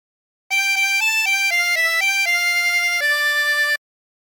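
Harmonica playing a La Cucaracha phrase, a run of short clear reed notes stepping between pitches, ending on a longer held tone, close and alone in silence.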